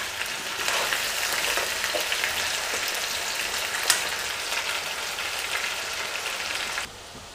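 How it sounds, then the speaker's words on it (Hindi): Potatoes fry over a high flame in a steady, dense sizzle that holds for about seven seconds and then cuts off abruptly, heard close with no voices. "आलूओं को भी हम हाई फ्लेम पे फ्राई करेंगे।"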